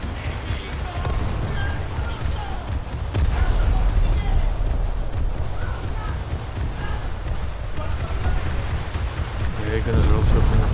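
Naval anti-aircraft guns firing in a warship video game, a continuous thudding barrage of dull repeated booms mixed with game noise throughout.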